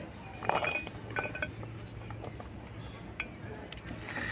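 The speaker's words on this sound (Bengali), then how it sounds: "এই জারের মধ্যে দিয়ে দিব টুকরো করা গাজরগুলোকে" Chopped carrot pieces drop into a blender jar, making a scattered run of light clinks and knocks against the jar, close and fairly quiet over low background noise.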